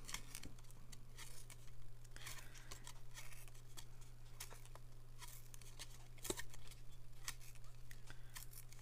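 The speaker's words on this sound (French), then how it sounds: "Je déchire sur toute une longueur." A strip is torn along the full length of a sheet of paper for a Halloween witch card, a soft, steady ripping with scattered small crackles, faint and close, over a low steady hum.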